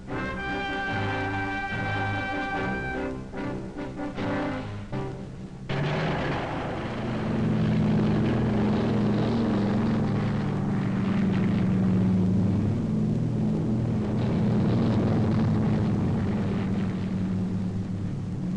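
Transport aircraft carrying paratroopers on D-Day fly overhead with a steady, sustained engine drone that swells in the second half and holds loud and continuous, following a stretch of music at the start.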